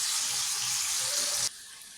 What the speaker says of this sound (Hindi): अब हम इसको फ्राई करते हैं